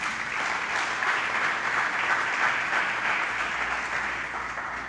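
A church congregation applauds at a service, a steady wash of many hands clapping at close range that holds for the full length without a break.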